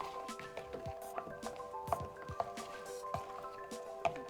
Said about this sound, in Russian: Хорошо перемешиваем материал, чтобы колоранты полностью в нем распределились.